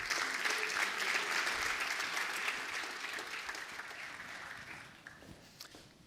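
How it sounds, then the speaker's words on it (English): A conference audience applauds its speakers, a dense, even wash of clapping that holds steady and then slowly fades, heard alone without talk. "Round of applause, please."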